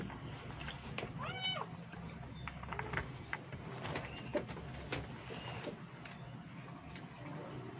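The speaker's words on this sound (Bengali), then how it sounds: "খেতে দিলে খাস না, অথচ এসে ম্যাও ম্যাও করছিস" A cat meows repeatedly, four or five drawn-out calls spaced a second or so apart, nearby over a low background hum.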